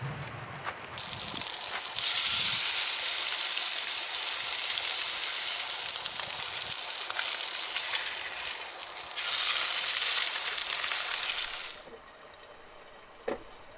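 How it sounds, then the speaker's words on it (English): Salmon fillet fries in a pan, cooked outdoors in summer van life. A broad, steady hiss swells loud for a few seconds, eases off, surges again, then drops away, with a single faint click near the end. "So first thing I'm gonna do is cook up the salmon."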